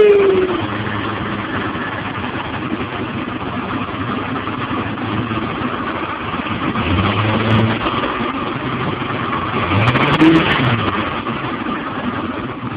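An OMC Cobra boat engine converted to an SEI116 setup runs and idles with a steady, slightly rough rumble, rising in a couple of louder swells near the middle and end, with no talking over it.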